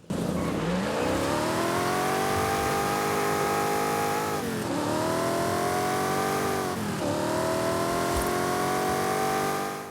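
1968 Pontiac Firebird engine in Forza Horizon 5 revving loud and close, climbing in pitch through three sweeping pulls with brief dips between, a continuous throaty roar with no talking.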